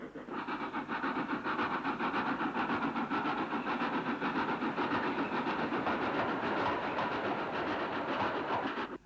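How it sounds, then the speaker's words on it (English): A GWR pannier tank locomotive hauls its train east off the Crumlin Viaduct past Crumlin Junction box, giving a steady loud rumble with a rapid rhythmic clatter of wheels on rail joints throughout. No voices are heard. "A pannier heads east for Pontypool Road, off the viaduct, and passes Crumlin Junction box."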